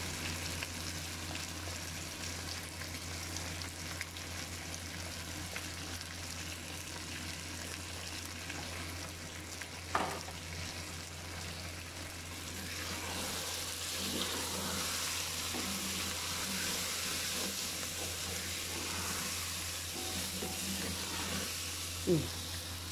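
Onions frying in a pan for okra masala, a faint steady sizzle and hiss running throughout with a couple of brief clinks, while someone talks softly over the cooking.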